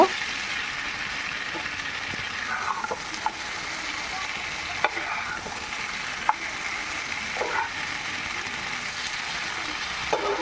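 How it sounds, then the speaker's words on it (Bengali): Mutton curry with Kashmiri chilli powder sizzling in a pan as it is stirred, a constant frying hiss broken by sharp scraping strokes and clicks of the spatula, close by with no talking. "ভালো করে নেড়ে চেড়ে দিতে হবে না হলে নিচে লেগে যাবে"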